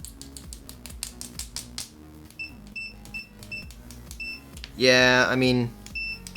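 A budget fifty-dollar multimeter's continuity beeper, tested with quality aftermarket probes, gives short high chirps and then one loud, sustained buzzing beep lasting under a second, close up, with someone talking throughout.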